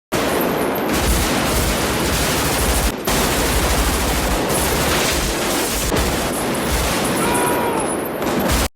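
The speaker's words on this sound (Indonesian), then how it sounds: "Dengan terpaksa, Nel CS harus keluar dari mobil dan melakukan peperangan" Sustained, dense gunfire from a film shootout in which robbers leave their car to battle police, rapid bursts and booming shots running continuously and loud throughout with no pauses.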